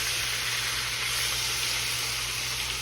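Catfish frying in 350-degree grease, a steady, loud, continuous sizzle and hiss with a low hum beneath, no talking.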